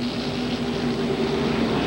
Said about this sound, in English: The helicopter standing by from the Carraway Medical Center